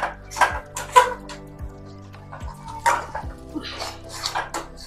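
A spoon stirs and scrapes a dry milk powder sweet mixture with ghee in a pan, soft irregular scraping and clinks, close, with music playing quietly underneath.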